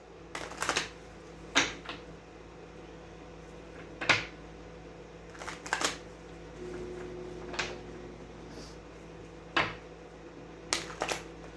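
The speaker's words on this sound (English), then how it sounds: "One more shuffle. That was a bad shuffle." Several short bursts of tarot cards being shuffled, separated by quiet pauses, close by with a low steady hum underneath.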